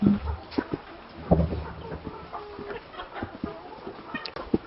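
Laying hens in a poultry house clucking continuously, with many birds overlapping in a busy, moderately close chorus, some sharper calls standing out, and no talk.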